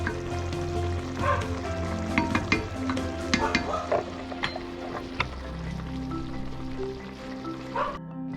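Taro leaves cooking in coconut milk with chili are stirred in a pan, giving a steady bubbling sizzle with scattered scraping and clinking of the spoon, close and fairly loud.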